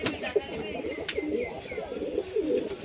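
Rajshahi Giribaj pigeons cooing, soft repeated low coos close by, with faint handling noise and brief background sounds.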